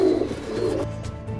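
Low, throaty racing pigeon coos sound close by in a short burst, soft and rounded, with no talking.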